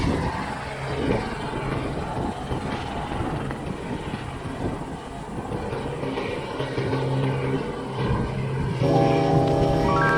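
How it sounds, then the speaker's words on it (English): A helicopter passes over Port Canaveral, a broad rumbling drone under gusty wind that swells slightly as it goes by, with another tonal engine sound emerging near the end. "the helicopter's going by again"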